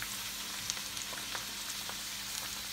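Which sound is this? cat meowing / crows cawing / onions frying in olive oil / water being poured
onions frying in olive oil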